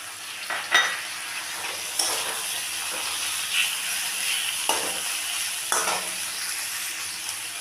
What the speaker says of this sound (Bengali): দিয়ে আমি রসুনটাকেও একটু ভেজে নেব